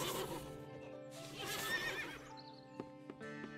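Horse whinnying loudly in the Western survival game Above Snakes, a long shaking neigh with snorts, followed by a few soft clip-clop hoof knocks near the end, no talking.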